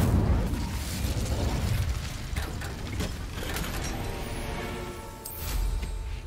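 An Incendio fire spell cast in a Harry Potter video game: a sustained, roaring burst of flame with crackling, rumbling texture that swells again near the end, with no voices.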